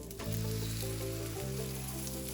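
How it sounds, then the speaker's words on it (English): Mufleta dough frying in a pan, a steady close sizzle with crackling oil that holds at an even level and contains no speech. "what you're doing is frying that little dough out there"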